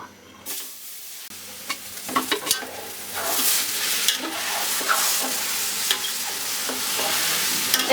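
Rice grains fried in a little oil in a large pot for khichuri, with a steady broad sizzle and repeated scraping stir strokes close up, no talking.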